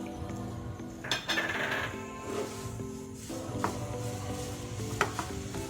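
Chopped beef being stirred into semiya biriyani in a pan, with a few soft scraping and clinking touches of a utensil against metal over a quiet, steady background.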